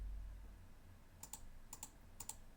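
Computer keyboard keys are pressed in three quick pairs of crisp clicks at close range, with quiet pauses between them and no talking.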